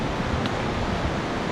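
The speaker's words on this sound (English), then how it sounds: "as we are walking on the right side of the river, you can hear the noise. It's flowing quite fast" Fast-flowing Himalayan river beside a mountain trekking trail on the Har ki Dun route, producing a dense, steady roaring rush of water that fills the scene continuously, with no voices.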